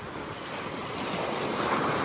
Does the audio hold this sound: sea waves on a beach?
yes